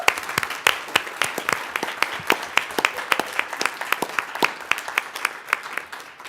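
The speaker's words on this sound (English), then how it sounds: "Let's give him one more round of applause." Applause at a Bountiful city council regular session honoring Max: a small group claps steadily and sharply for several seconds, individual hand claps distinct in a room, fairly close, with no talking over it.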